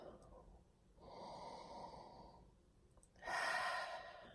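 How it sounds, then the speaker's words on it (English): Slow, deep breaths drawn in through the nose during a quiet meditation with essential oils, a soft inhale, a longer airy intake, then a stronger breathy rush, all close and gentle. "I'm going to take about 3 or 4 nice deep breaths in."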